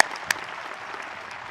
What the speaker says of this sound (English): Let's give another round of applause for our amazing 2024 graduates